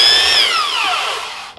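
A belt sander on wood gives a loud, high mechanical whine that slowly drops in pitch as the machine winds down to a stop over about a second and a half.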